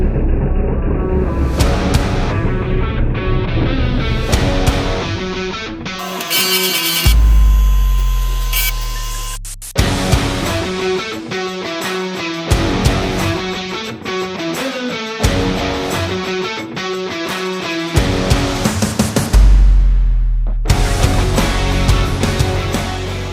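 A disc grinder works the big end of a Triumph TR6 connecting rod in repeated loud bursts of harsh whining abrasion, broken by brief pauses and a spin-down between passes.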